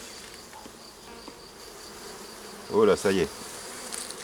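Honey bees swarm and buzz around an open hive while a beekeeper works the frames, a faint steady hum with louder bursts close by, and a brief remark spoken in French over it.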